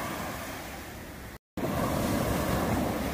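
Loud, steady roar of strong ocean surf crashing continuously at Alanya, with wind noise buffeting the microphone and a brief dropout midway.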